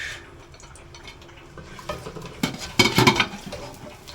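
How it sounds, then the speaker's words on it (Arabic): Finely chopped onion frying in melted butter in a pan while being stirred, a soft sizzle that builds with scraping utensil sounds and clinks growing louder toward the end. "وبعد ما الزبده ساحت هنقوم نازلين بالبصله اللي احنا مقطعينها صغير اهي لغايه ما تاخد اللون الاصفر"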